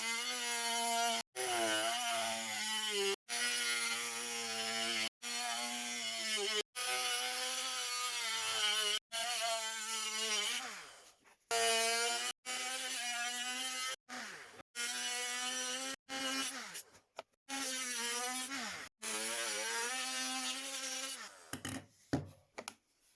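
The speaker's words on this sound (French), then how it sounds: "Pour découper, j'utilise une petite meuleuse Parkside" A small Parkside angle grinder whines through repeated cutting passes, its pitch dipping under load, with short pauses between bursts.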